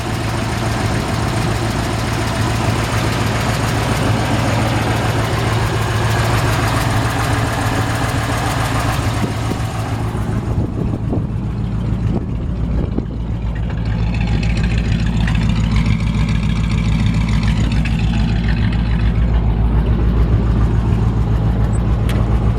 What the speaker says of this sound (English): Like I said, the engine runs fantastic.